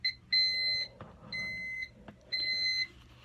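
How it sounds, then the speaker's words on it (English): A Thermco ACC895WRFT wireless temperature monitor sounds its alarm because no external sensor is connected, giving three bursts of sharp, high electronic beeping separated by short pauses, with faint clicks between them. "now we're getting an alarm because we have no external sensor connected"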